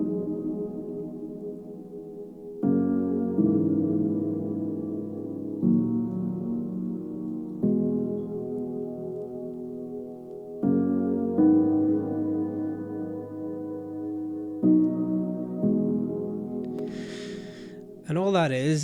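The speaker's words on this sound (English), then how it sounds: "So the chords sound like this." Anjunadeep-style organic house piano chords from the Spitfire Audio Labs plugin, sustained and changing every few seconds in a slow progression, soft and alone, with a brief swooping effect at the very end.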